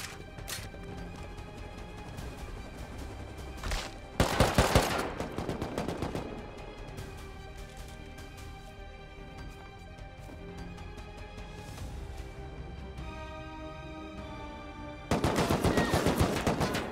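AK rifle gunfire in a survival video game set around an underwater bunker, with loud rapid automatic bursts near the start and again at the end, and scattered single shots and game sounds in between.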